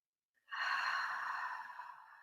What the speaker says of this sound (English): A big, deep inhale through the nose and a loud exhale.